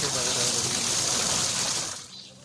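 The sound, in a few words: washing machine converted to 12V DC running, water splashing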